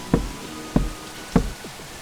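Three more knuckle raps on a wooden cottage door, close and evenly spaced, with a quiet hush left after the last one.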